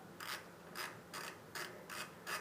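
A ratchet loosens the front brake calipers on a Ducati motorcycle raised on a lift table for a tire change, giving six evenly spaced bursts of clicking, close and quiet.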